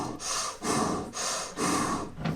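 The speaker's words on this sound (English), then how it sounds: "So it's gonna be like a cannonball breath" Forceful breathing through an open mouth in a breathwork exercise: four loud, rushing breaths in steady alternation of inhale and exhale, close and alone.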